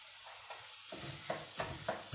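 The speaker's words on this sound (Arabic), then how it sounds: "الجميل متاع الخضرة كي تبدا تشتش" Chopped vegetables with onion, tomato and potato start frying in oil in a home kitchen: a soft hiss builds after a quiet start, with a few stirring clinks and scrapes through the sizzle.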